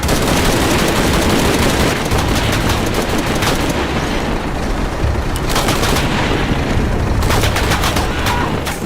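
Continuous heavy gunfire from a combat scene in the video game Shadow of the Tomb Raider, loud dense bursts of rapid shots and booms rolling on without pause.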